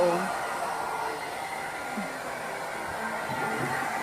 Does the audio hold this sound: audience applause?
no